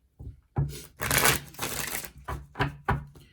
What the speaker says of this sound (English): I've already pre-shuffled your cards. I'm going to shuffle again.